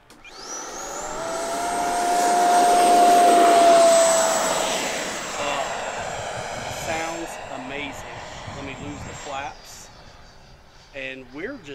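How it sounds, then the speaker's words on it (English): An FMS 80mm F-86 Sabre RC jet with half flaps takes off, its electric ducted fan a loud rising whine that swells to a peak and then fades as it climbs away, with a voice talking over the later part. "I'm gonna go with half flaps on this takeoff"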